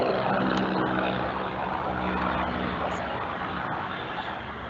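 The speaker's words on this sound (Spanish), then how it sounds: "Está pasando un helicóptero en este momento." A helicopter passes overhead as a steady, broad droning rumble that fills the whole stretch and eases off slightly toward the end, with no voices.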